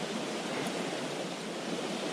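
Water from a small lake rushes and laps in a steady broadband wash, close and continuous without pause.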